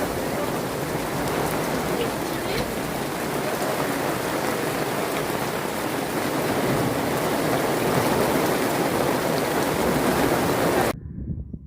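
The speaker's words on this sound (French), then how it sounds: "ça y est, il pleut" Steady, heavy rain pours down continuously on the GR65 trail near Saint-Privat-d'Allier and Saugues, a dense hiss of drops close by, ending abruptly.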